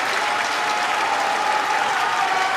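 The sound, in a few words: arena crowd applauding at sumo tournament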